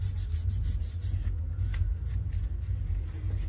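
Athletic tape is rubbed firmly onto skin with quick, steady back-and-forth friction strokes, close and fairly quiet, alone without talk.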